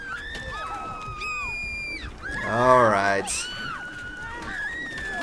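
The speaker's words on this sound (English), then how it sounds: "Oh god, the screaming." Shrill screaming and whooping from a wedding crowd in The Witcher 3, rising loud near the middle amid game music and ambience, with someone talking over the scene.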